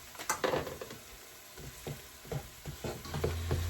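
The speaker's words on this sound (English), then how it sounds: "now that my onions and peppers and garlic and stuff are cooked, I'm going to add the ground beef." Ground beef frying in a pot over already cooked onions, peppers and garlic for chili, a steady close sizzle with scraping stir strokes and clatter, no talk.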